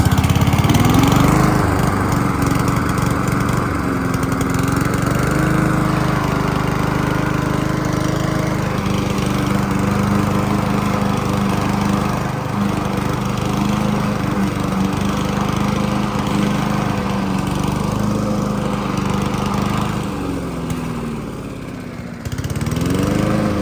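A Honda lawn mower engine fitted with a replacement Chinese carburetor runs loud and close for the whole stretch, holding a steady droning roar with slight wavers in pitch near the end.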